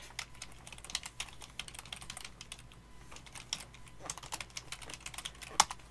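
Typing on a computer keyboard during a late-night stream, a steady run of quick light key clicks, close and fairly quiet.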